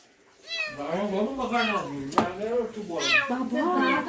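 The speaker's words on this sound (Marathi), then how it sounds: "ही आहे एक डेंजर मांजर" A cat meows loudly and insistently, drawn-out wailing cries repeating close by with brief breaks between them.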